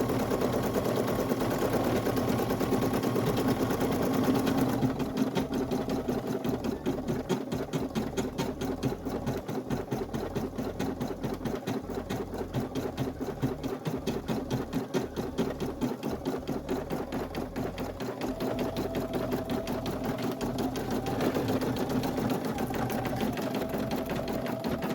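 A single-needle embroidery machine stitches a hat in a hat hoop, a fast, even mechanical chatter of needle strokes that runs continuously at moderate loudness, with no talking.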